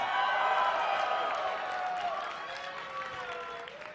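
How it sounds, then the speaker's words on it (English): Crowd at a live League of Legends esports tournament cheers and whoops for the champion Leona, a steady wash of voices and applause that slowly fades over several seconds. "So yeah, can we get a cheer for Leona?"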